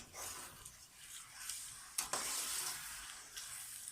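Chicken nihari with homemade yogurt frying in a pan, a soft steady sizzle with light stirring scrapes and one sharper clack midway, fairly quiet and without talk.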